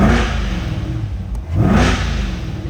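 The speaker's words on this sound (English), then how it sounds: "let's give it a couple revs." A 2021 Corvette C8 Convertible 2LT engine revs loudly twice in quick succession, each rev a roaring swell with a brief dip between them, close by and with no voices.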